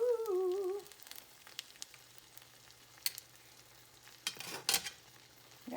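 Lobster and shrimp pasta being stirred into Alfredo sauce in a pan, with soft scraping and a few sharp utensil clinks against the pan, after a brief high sung or hummed tone at the start.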